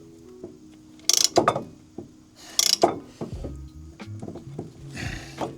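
A brake ratcheting tool pushes a caliper piston back against growing resistance, giving close, sharp ratchet clicks and metallic clunks in short uneven bursts with a few quieter knocks between them.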